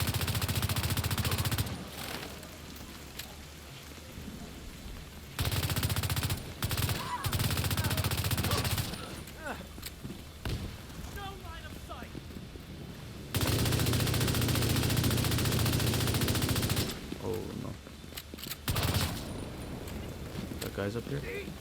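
Bursts of automatic gunfire from the Invisible Hand weapon in the shooter game The Division 2, loud sustained volleys in several separate stretches, with game sounds and someone talking in between.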